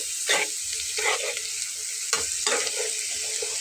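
Taro greens cooking with a hilsa fish head sizzle steadily in a pan, broken by a few distinct scraping strokes of a spatula as the mixture is stirred and fried down, with no talking.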